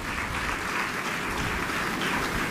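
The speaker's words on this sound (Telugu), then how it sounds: "చప్పట్లు గట్టి కొడదామా దేవుని స్తోత్రం" Applause from a church congregation at a prayer message, a dense, even wash of many hands clapping loudly and steadily for a few seconds with no voices on top.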